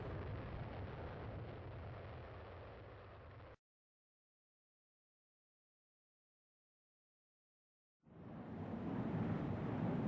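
Jet afterburners running at full in the Strike Fighters 2 flight game, a loud broad roar that cuts out abruptly to silence for several seconds, then surges back in just as strong.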